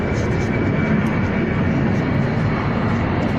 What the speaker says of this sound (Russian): КЛМовский самолет.